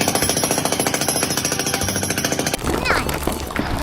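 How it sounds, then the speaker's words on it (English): A cartoon drill truck's drill machine hammers in a rapid, even pulsing rattle for a few seconds, loud and close, then cuts to a rougher rumbling churn with faint sliding squeaks. "The drill machine has a special job today."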